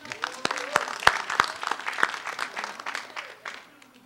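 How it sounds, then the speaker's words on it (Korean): Audience applause at a 2004 civic coalition press conference greets a university student performance, a dense crowd of hand claps with a few louder close claps standing out, then tapering off toward the end. "박수로 좀 맞아주시죠."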